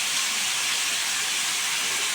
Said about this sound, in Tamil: தக்காளி நல்லா கிளறி விட்டுருங்க. தக்காளி நல்லா கிளறியாச்சு.